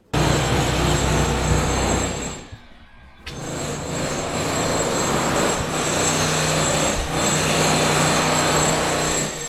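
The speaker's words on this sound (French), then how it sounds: "C'est hyper bruyant les burineurs." A chipping hammer breaks up floor tiles during a bathroom renovation, a loud, harsh, continuous hammering din close by that cuts out briefly, then resumes at full force.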